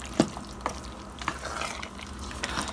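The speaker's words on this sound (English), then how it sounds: "A quick stir, and we'll let this simmer" Stovetop chili with fresh and canned tomatoes stirred in a pot, a few soft scraping strokes over a low simmering sizzle, close and fairly quiet.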